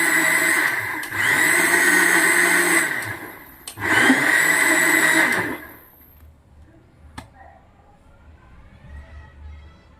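A kitchen mixer grinder blending mango with sugar for homemade ice cream, a loud whirring run pulsed on and off in two bursts, then stopping, followed by quieter handling clicks.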